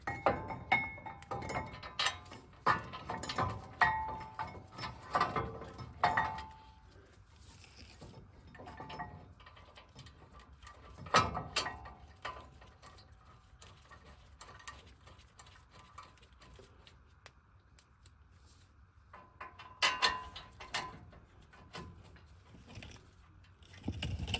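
Caliper bracket bolts being tightened on a Ford F150 4x4 wheel hub, with scattered ratchet clicks, metallic clinks and tool handling in bursts, close but fairly quiet.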